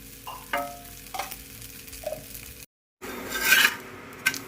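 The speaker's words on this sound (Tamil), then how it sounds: "அதுதான் திருப்பி போட்டாச்சு. கண்டு நெய் ஊற்றிக்கணும்." Dosa cooking with ghee in a pan at home, a soft sizzle with scraping and rubbing of a spatula, a brief cutout midway, then a brighter burst of sizzling.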